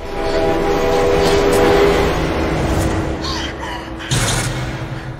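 A dramatic train sound effect in a horror film: a loud, steady rumble of a train with a sustained horn-like tone, then fainter sweeping screeches near the end.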